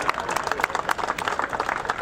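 A room full of people clapping for someone's birthday at a baseball team event, a steady dense patter of hand claps lasting a couple of seconds at moderate level.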